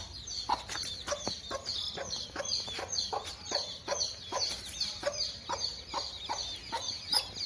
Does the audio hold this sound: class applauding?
no